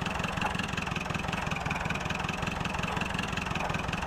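A tractor engine in the Farming Simulator 2011 game drones steadily at a low, even pitch with a constant rumbling throb, unbroken throughout.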